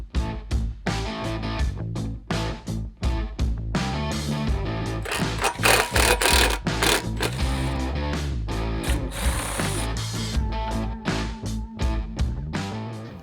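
A power tool backs bolts out of a Chevy Colorado Z71 front bumper, with short bursts of buzzing, rattling impact-style whirring, close and loud, separated by brief pauses and clanks of metal, with no talking.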